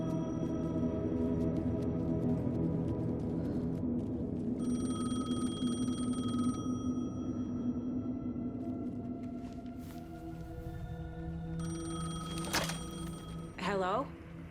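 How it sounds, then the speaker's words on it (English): A payphone rings in the video game Alan Wake 2, with repeated electronic bell tones sounding over a dense, brooding ambient score and low rumble, followed by a brief sharper clatter near the end. "The payphone was ringing."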